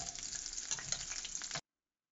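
Potatoes frying in hot oil alongside fish for a small-fish curry, a steady close sizzle with crackling pops that cuts off abruptly near the end.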